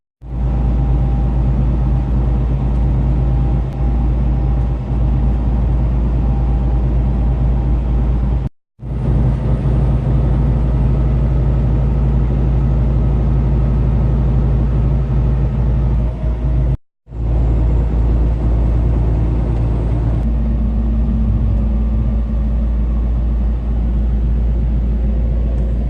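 A car drives on the road toward Lake Placid with a loud, steady interior rumble of engine and tire noise that holds unbroken apart from two brief dropouts, with no talking.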